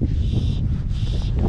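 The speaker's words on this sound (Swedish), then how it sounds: "Det blåser bra." Wind buffets the microphone with a heavy low rumble while fly fishing for sea trout, gusting steadily throughout, with a faint high whine rising and falling twice.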